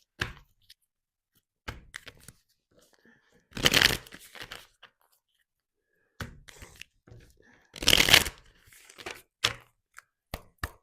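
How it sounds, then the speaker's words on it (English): Tarot cards being shuffled and pulled out in two loud, crisp rustling bursts, separated by faint taps and handling noises in a quiet room, with no talking. "Now we're going to take out extra cards for you."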